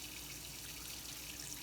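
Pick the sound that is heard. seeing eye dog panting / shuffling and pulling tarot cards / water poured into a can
water poured into a can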